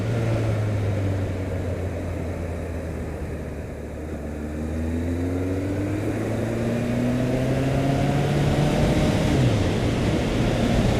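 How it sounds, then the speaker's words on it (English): A vehicle doing burnouts at a motorcycle expo, a loud sustained engine roar with the pitch sweeping up and down as it revs, continuous and fairly close, and no speech over it. "somebody's doing some burnouts down here"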